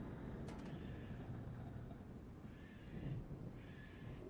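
A horse's braying neigh rises over a low, rumbling stormy backdrop, with a couple of squealing whinny bursts standing out against the steady thunder-like roar, as a sound effect in a tabletop fantasy game session.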